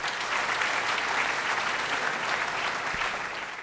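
An audience applauds loudly and steadily at a company recognition event for the Nashik Metal Dust team, dense clapping filling the whole stretch without a break.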